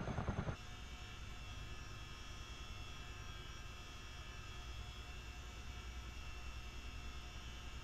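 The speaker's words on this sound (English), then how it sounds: "The more I fly this helicopter, the more I love it." A simulated helicopter in Microsoft Flight Simulator 2020 drones steadily after a brief louder burst at the start, its rotor and turbine noise forming a continuous, even hum throughout.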